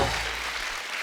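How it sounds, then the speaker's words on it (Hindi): A studio audience on a comedy talk show applauds actors Tiger Shroff and Shraddha Kapoor, giving a brief, loud burst of clapping that lasts about a second. "जोरदार तालियां टाइगर और श्रद्धा के लिए"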